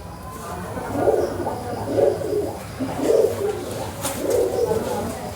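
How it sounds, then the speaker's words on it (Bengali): Ablook pigeons coo in a loft in Budge Budge, South 24 Parganas: soft, low, rounded coos repeating roughly once a second, fairly close, with faint background noise. "এই একটা আবলুক পায়রা বাচ্চা হয়েছে"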